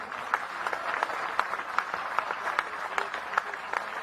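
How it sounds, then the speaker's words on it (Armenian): A crowd at a mayoral campaign rally in Gyumri, Armenia claps in a steady, rhythmic, near-unison beat of sharp repeated claps lasting several seconds. "Ծափահարություններ Գյումրիին։"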